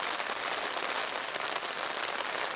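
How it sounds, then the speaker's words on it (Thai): Heavy rain pours over a rose garden as a steady, dense hiss that stays constant throughout, with no voices. "ไปแล้วค่ะเดี๋ยวหนูเข้าบ้านละฝนตก"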